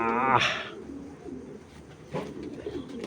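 Racer pigeons coo nearby, opening with a louder wing-flutter or harsh burst, then quieter low cooing and another sharp rustle later.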